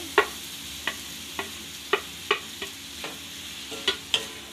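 A spoon stirs tomato into capsicum frying in a pan, giving sharp scraping clicks about every half second over a steady soft sizzle, with no talking.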